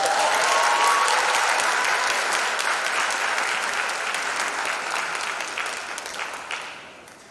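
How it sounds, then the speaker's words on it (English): Sustained audience applause for a school superintendent being introduced at the Cicely L. Tyson Class of 2021 graduation, dense steady clapping of a large crowd that gradually thins and fades out. "give him a round of applause for reading that bio"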